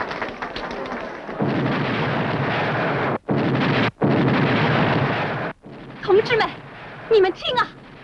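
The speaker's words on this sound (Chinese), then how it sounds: "你们听啊，这是我们山区人民欢迎支农班车的炮声啊！" Cannon salute fired by mountain villagers to welcome an agricultural support bus: a loud, sustained rumbling barrage of blasts that breaks off abruptly, followed by people talking.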